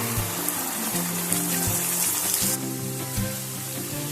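Masala frying in hot oil for a brinjal kaju curry gives a steady, close crackling sizzle with bubbling spatter throughout, and no voices.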